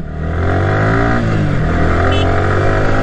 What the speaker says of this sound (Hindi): मैं बाइक को तेज भी चलाऊंगा